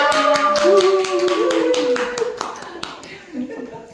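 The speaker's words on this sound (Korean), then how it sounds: "큰 박수 부탁드리도록 하겠습니다" An audience at a Unicity health-program presentation claps as the next presenter comes on stage. Sharp, scattered handclaps mix with a voice talking over them, then thin out toward the end.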